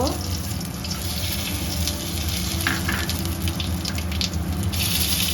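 Four dried red chillies and panch phoron spice frying in hot oil in a home kitchen pan, a steady dense sizzle throughout with faint stirring and clinks, close and loud.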